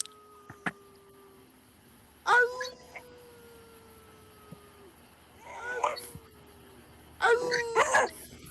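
A beagle gives a few short howling and yipping bursts, close by, with gaps of quiet between them and people talking softly in the background.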